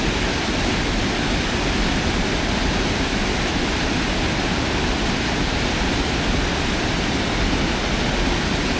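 High water on the Fox River rushing over a small dam, a loud, unbroken broadband roar with no breaks or other sounds.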